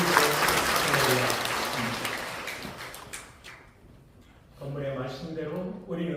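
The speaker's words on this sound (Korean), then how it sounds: "우리 하나님께 큰 박수로" Applause rises in a church during a worship service, a broad wash of clapping from the congregation that gradually fades and gives way to a preacher's voice speaking again.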